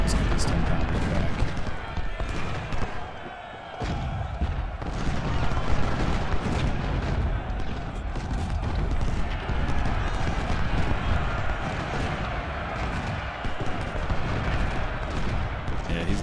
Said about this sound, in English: I'll let my artillery hit these guys